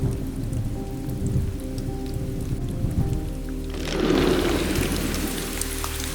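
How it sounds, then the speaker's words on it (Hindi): Rain sound effect layered in during video editing: steady heavy rainfall with a faint rumble of thunder, swelling louder partway through over a low background hum, with no voices. "जैसे ही मैंने ये वाला साउंड इफेक्ट यहाँ पर डाला तब आपके माइंड के अंदर एक इमेज बन गई होगी कि यहाँ पर बारिश हो रही है"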